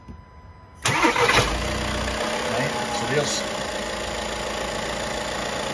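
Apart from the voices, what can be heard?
diesel van engine starting and idling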